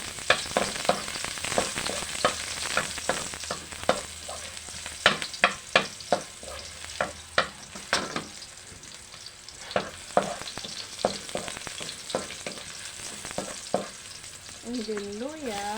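Garlic frying in a pan for escabeche sauce, a steady close sizzle broken by repeated sharp stirring scrapes and clinks, with no talk.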